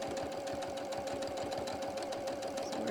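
A domestic sewing machine runs steadily while topstitching about 1/8 inch around the edge of a small appliqué project, its needle thumping in a fast, even rhythm with a constant motor whine, close and alone.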